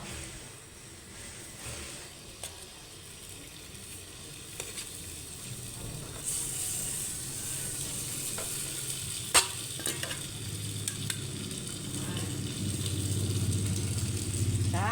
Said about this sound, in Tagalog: Unahin na natin iprito sa ating kawali.